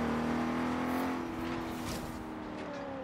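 A Porsche engine in the Forza racing game revs steadily with a rising, droning tone and fades slightly near the end, the turbo blow-off valve not distinctly separate.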